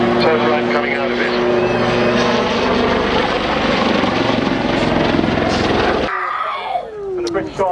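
A British Army attack helicopter in a flying display at Cosford, a loud close rotor and engine roar during a vertical climb and nose over, with a commentator talking over it, then a sudden drop to quieter distant engine noise.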